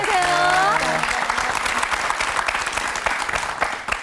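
Studio audience on a Korean TV talk show claps loudly and steadily throughout, with a brief musical sting in the first second.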